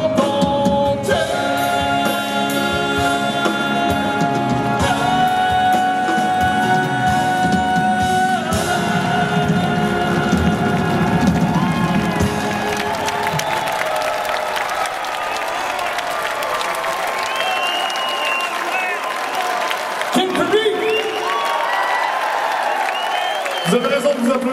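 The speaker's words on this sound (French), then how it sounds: "Vous avez raison de vous applaudir" An audience at a celebration evening marking twenty years in office cheers and applauds as sustained sung or played tones ring over the crowd, then fade into scattered clapping, shouts and voices; loud and lively throughout.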